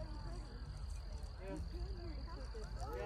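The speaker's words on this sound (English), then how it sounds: "If you guys can listen closely, you'll hear the crickets." Crickets chirping outdoors during the 2024 solar eclipse, a faint steady high-pitched trill under people talking nearby.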